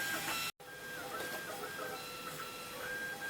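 A Printrbot Play 3D printer, model 1505, runs steadily with a whirring, hissing motor drone and faint tonal stepper whines, broken by one brief gap near the start.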